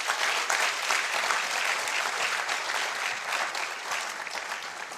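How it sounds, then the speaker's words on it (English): A crowd at a college distance education awards ceremony gives a loud, continuous round of applause, dense clapping throughout that tapers slightly toward the end. "shall we give the college another round of applause?"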